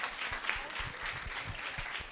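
Church congregation applauding together, a steady wash of many hands clapping at moderate distance for the whole stretch, with a few louder individual claps standing out.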